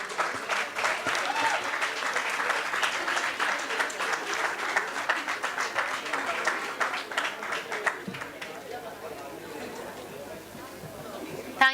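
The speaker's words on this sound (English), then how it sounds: "Please give them a huge round of applause." An audience at a convocation ceremony gives a sustained round of applause: dense, close clapping that thins out and fades after several seconds, leaving quiet room noise.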